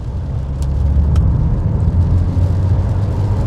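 A Ford Mondeo pulls hard in third gear from 30 mph, a steady close engine drone with road and wind roar filling the cabin, and no voices.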